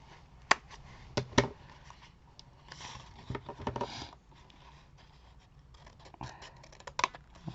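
Scissors cutting small paper squares at a slight bevel for a handmade mini album, producing close, irregular snips and scratchy paper rustles with a few sharper clicks, fairly quiet overall.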